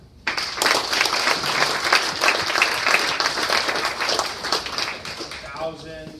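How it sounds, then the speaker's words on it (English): Audience at a fall sports banquet breaking into applause for a retired coach, dense clapping starting abruptly and holding steady before thinning out, a few voices and cheers mixed in. "I think we should all give a round of applause for Glenn Nelson"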